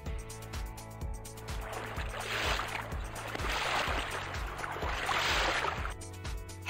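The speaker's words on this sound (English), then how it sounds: "Gondola." A gondola boat moves on water, with a steady wash of lapping, splashing water and a regular rhythmic pulse underneath, moderately loud and continuous with no voices.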